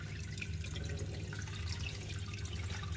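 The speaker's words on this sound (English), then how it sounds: "Now it's time to use my miller table to get it absolutely spotlessly clean." Water runs steadily over a miller table while gold concentrate is washed clean, a continuous close trickle and splash with small drips and a low background hum.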